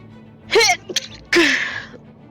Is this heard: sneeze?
yes